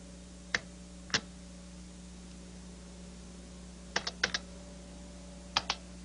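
Isolated keystrokes on a computer keyboard, close and crisp: two single taps, then a quick cluster of four, then a final pair, with quiet hum between them.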